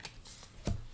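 A deck of tarot cards is shuffled briefly by hand, close and soft. The quick riffle flutters and ends with a single sharp snap as one card pops out of the deck.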